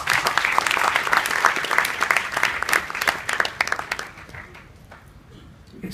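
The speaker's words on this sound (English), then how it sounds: "I think we should give him a round of applause." An audience at a youth summit held at a university in India applauds a keynote speaker, giving dense crowd clapping with sharp individual claps that fades out toward the end, leaving a quieter tail.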